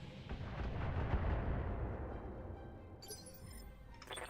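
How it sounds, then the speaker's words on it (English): A missile salvo fires in the mech combat video game BattleTech, a loud rumbling burst of launches and impacts that swells and then fades, with a few sharp crackles near the end. "Let the missiles fly."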